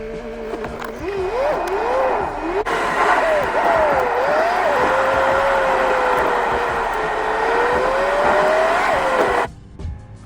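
An Alfa Romeo Giulietta on a test drive just after a front brake disc change, its engine and road noise droning steadily with rising and falling pitch as it pulls away, loud and close throughout, then cutting off abruptly near the end.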